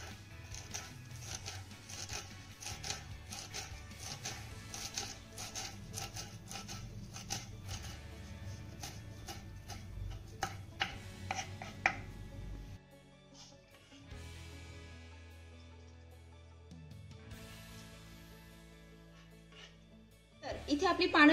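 Knife finely chopping fresh moringa leaves on a board, a quick steady run of close, crisp cuts that later thins to lighter scraping and handling sounds, with someone speaking over it.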